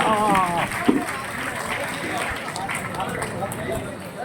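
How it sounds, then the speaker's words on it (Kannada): Parents give students a round of applause at a school gathering, a steady wash of many hands clapping with crowd murmur and a voice briefly audible at the start. "ಜೋರಾದ ಚಪ್ಪಾಳೆ ಕೊಡಬೇಕು ನಮ್ಮ ಪಾಲಕರಿಂದ."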